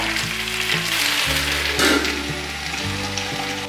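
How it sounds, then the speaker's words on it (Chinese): Half a head of cabbage being stir-fried in a pan after a short covered steam, a steady sizzle and frying crackle throughout, close and fairly loud with a low hum beneath, no voices. "高丽菜有稍微变软了，可以来翻炒一下"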